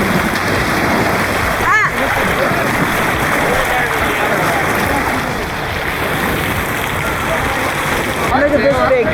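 Constant rushing, splashing water on the Runaway Rapids water park ride, loud and close throughout, with a brief exclaiming voice over the churning spray.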